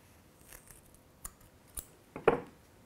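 Scissors cut a bunch of fur for a tube fly, a few faint clicks and then one louder, crisp snip near the end, close and quiet.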